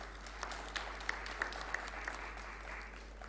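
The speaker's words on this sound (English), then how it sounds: "With a huge round of applause" Applause from the audience at a college convocation ceremony, thin and fairly faint, a steady patter of clapping with a few sharper claps standing out over a low hum.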